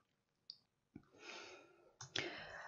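A few soft computer mouse clicks while a spreadsheet program is being used, scattered sparsely over a quiet room with faint breathing.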